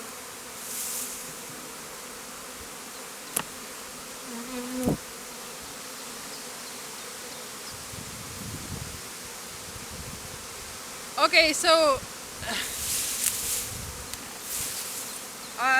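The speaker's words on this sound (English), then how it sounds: "in here you can see these are all little bees coming out" Steady buzzing of honey bees at a hive hums throughout, with a brief spoken remark near the start and a few clicks and bumps scattered over the drone.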